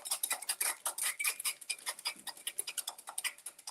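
Three eggs whisked in a bowl, a quick, steady run of light clicking taps from the whisk against the sides, close and fairly quiet with no talking.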